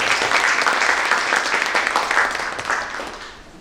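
An indoor forum audience gives a speaker a burst of dense applause, many hands clapping together loudly before tapering off over a few seconds.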